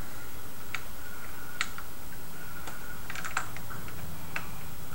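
Rapid clicking keystrokes on an MSX home computer keyboard, a loose irregular patter of taps close by, with a steady low hum underneath and no voices.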